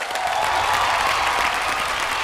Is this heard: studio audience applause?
yes